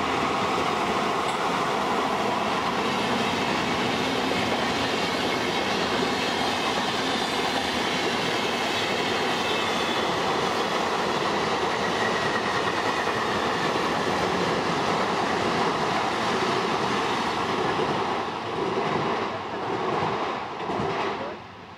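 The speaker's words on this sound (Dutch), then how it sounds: "Vanuit München komt deze Christophorus Express, een autoslaaptrein op weg naar Oostenrijk en getrokken door een" Christophorus Express car sleeper train from Munich towards Austria, hauled by a class 110 locomotive, passes close by with a loud, continuous rolling roar and clatter of wheels that fades slightly at the end.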